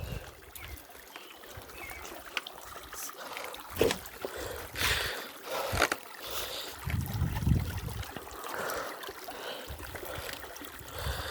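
Continuous rushing water streaming over rocks, steady and fairly loud, with occasional splashes and bumps, no talking.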